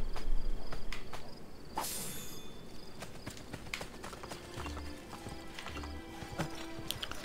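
An armored horse in Assassin's Creed Brotherhood gallops with rapid, steady clip-clop hoofbeats up close, with a brief whinny early on and a soft insect-like chirping bed beneath.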